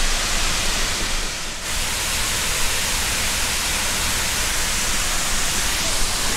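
Brandywine Falls in Cuyahoga Valley National Park roars loud and close, a dense unbroken rush of water with a brief dip near the start before the full torrent resumes.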